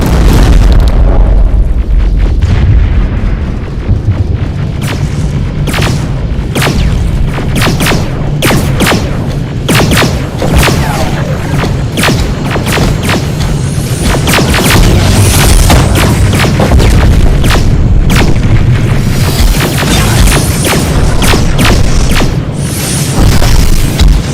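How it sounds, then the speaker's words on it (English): Rocket explosions in the combat game Terminator Resistance: a dense barrage of loud, booming blasts and sharp bursts, one after another for the whole stretch, over a constant roaring rumble. "Rockets! They're heading this way!"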